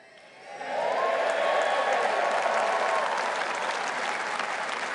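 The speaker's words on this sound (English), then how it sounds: "I'm not sure that every media channel will quite get that round of applause" Audience applause at a Reform UK political rally in Birmingham, swelling quickly into sustained, dense clapping from a large crowd that holds steady to the end.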